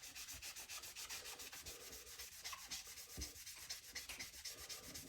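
A moist sponge loaded with Bar Keepers Friend scrubs a steel knife blade in quick, rhythmic back-and-forth strokes, a close, gritty rubbing with no voices.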